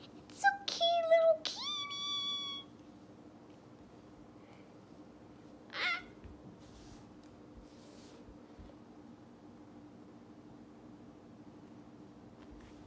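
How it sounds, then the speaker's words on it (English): A cat meows a few times close by at the start, followed by a brief rustle and quiet background hum. "You're meowing."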